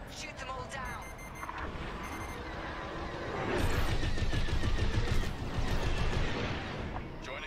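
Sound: starfighter guns firing in Star Wars Squadrons video game

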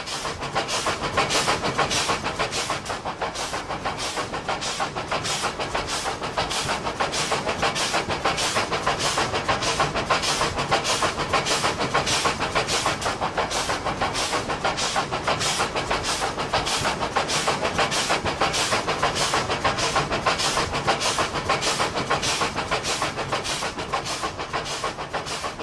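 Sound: Fairy Queen steam locomotive train running

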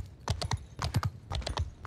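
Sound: horse hooves galloping in the video game Mount & Blade II: Bannerlord

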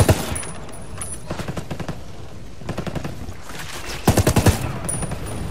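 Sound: gunfire from a sniper in Ghost Recon Wildlands video game

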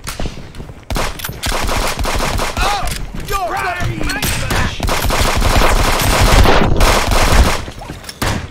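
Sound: rifle gunfire in a video game

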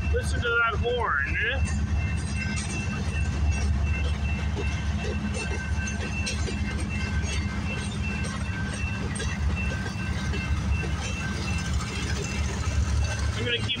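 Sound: CPKC 528 freight train passing

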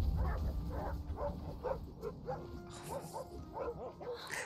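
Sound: wolf barking and yipping in a video game

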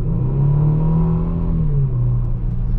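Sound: Kia Stinger GT accelerating at full throttle

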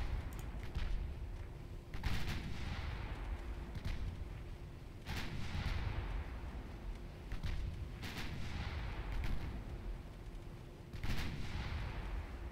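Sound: battleship naval gunfire in Ultimate Admiral Dreadnoughts video game

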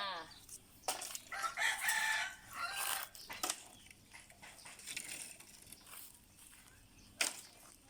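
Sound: chicken crowing

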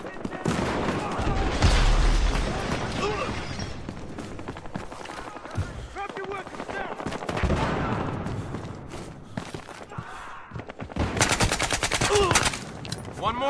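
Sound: gunfire in a video game

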